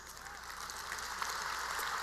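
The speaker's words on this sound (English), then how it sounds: "Thank you for your applause." Soft, distant applause from the audience at a bar examination oath-taking ceremony, a low, steady wash of many hands clapping that swells slightly as it goes, with faint voices underneath.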